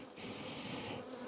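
Honey bees buzz around hives in a beekeeper's yard, a dense steady hum from many insects, close and continuous, with no voices.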